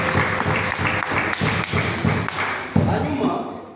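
A church congregation claps together in a steady, rhythmic beat of repeated hand strikes, close and fairly loud, with voices mixed in beneath the clapping.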